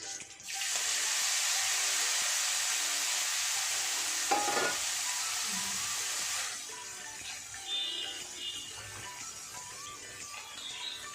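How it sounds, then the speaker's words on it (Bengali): Kakchi fish frying in hot oil gives a loud, dense hiss that holds steady for about six seconds, then settles to a quieter crackle with occasional pops, with no voices. "এইভাবে সব মাছগুলো ভেজে নেবো"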